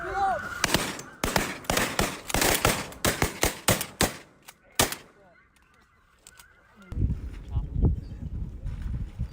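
Shotgun blasts at snow geese during a spring conservation goose hunt, a fast volley of loud close shots over honking geese, with hunters shouting and talking throughout.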